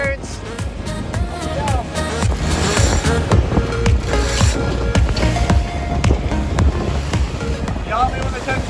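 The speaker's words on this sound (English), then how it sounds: "The joy of sailing, no motor, still got speed." A sailboat under sail with no motor, pushing through open water toward Chicago: loud, continuous rushing and sloshing of water with heavy wind noise across the microphone, and people talking over it throughout.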